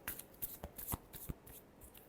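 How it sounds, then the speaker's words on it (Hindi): Tarot cards are shuffled close by and quietly, with a quick run of soft riffling flicks and light taps over about two seconds. "Last shuffle."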